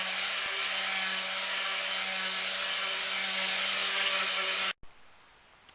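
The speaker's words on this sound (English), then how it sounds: "So that's why we're using the palm sander again" A palm sander buzzes steadily along the grain of a vintage wooden butcher block for nearly five seconds, loud and close, then cuts off abruptly leaving quiet room tone.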